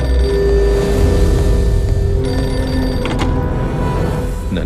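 Public telephone on a railway station platform rings in repeated electronic bursts, loud and close over a low background rumble, with no talking.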